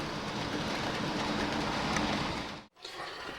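Model train locomotives run along layout track during an operating session, a steady rolling rumble with faint rail clatter that stops abruptly near the end before resuming softly.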